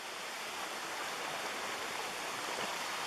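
A mountain stream runs steadily nearby on a hot day, a continuous broadband rushing and splashing of water with no breaks or voices.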